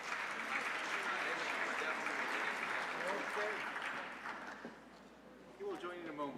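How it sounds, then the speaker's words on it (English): Audience at an annual conference gives a sustained round of applause that fades toward the end, with faint voices emerging as the clapping dies down. "let's have a round of applause for that"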